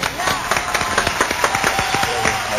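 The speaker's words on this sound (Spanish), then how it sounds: "un aplauso para Carlos Villabón" Studio audience applause for Carlos Villabón, a Colombian painter arriving on a TV talk show, with a dense, steady burst of many hands clapping close by, a voice faintly underneath.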